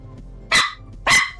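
A puppy barks twice, two short sharp yaps about half a second apart, close and clear over a quiet low hum.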